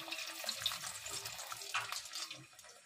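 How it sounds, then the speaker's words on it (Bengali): Batter-coated fritters made from homegrown pumpkin leaves are dropped one by one into hot oil, giving a steady, close frying sizzle with a bright hiss and a few louder pops. No one speaks. "তেলটা হিট হয়ে গেছে, এবার একটা একটা করে ছেড়ে দেব"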